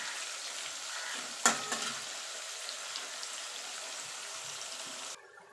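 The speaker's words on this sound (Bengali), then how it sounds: "আমার চিংড়ি মাছটা এখানে ভাজা ভাজা হয়ে গেছে।" Shrimp fry in a pan while being stirred, giving a steady close sizzle with a brief clatter of the spoon early on. The sizzle drops quieter at the very end.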